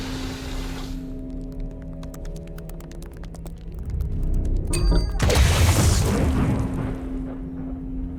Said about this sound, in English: Just launching another grenade there to make sure this thing dies this turn